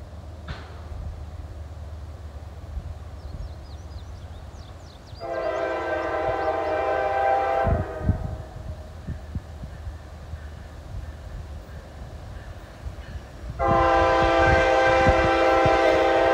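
A Norfolk Southern freight train passes under an old bridge near milepost 14 outside Cincinnati, with a steady rumble of rolling cars and two loud, sustained horn blasts, the second closer and stronger.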